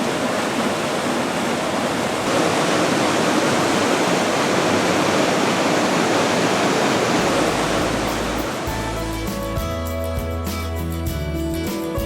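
Waterfall at the Falls of Loch on the West Highland Way in the Scottish Highlands, a loud continuous rushing roar of falling water that gives way to music near the end.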